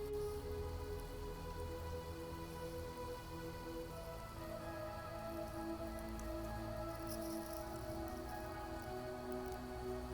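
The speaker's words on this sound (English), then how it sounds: "You hear them all crawling on the ground. They're falling out of the trees for some reason." Countless Brood X cicadas crawling and dropping onto the ground at night, a faint, dense pattering crackle like light rain, steady throughout with distant high buzzing overhead.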